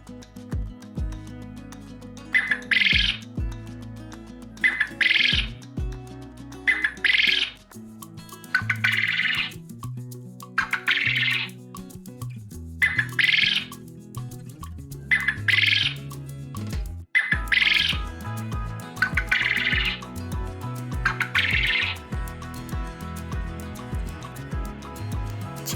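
Quail calls come in a repeated series of short, bright chirped bursts at a fairly regular rhythm, clear and close over a faint low background, with no voices.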